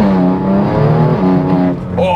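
A BMW 335d with a stage 3 single turbo diesel engine, about 500 horsepower, revs loudly and close, a steady harmonic drone that dips briefly before rising again.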